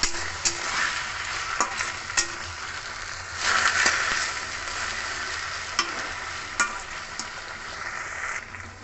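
Jute leaves with salt and turmeric stir-fried in a pan, a steady sizzle with repeated scraping clicks from stirring and a brief louder burst of hissing partway through.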